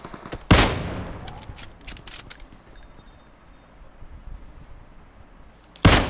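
Gunfire in a shooter video game: two sharp, loud single shots several seconds apart, with faint clicks and a low ambient hum between them, no voices.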